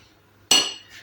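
A single bright clink of a metal spoon against a dish, close and sharp, followed by a brief softer scrape, as the spoon scoops and pours pumpkin-cheese casserole batter.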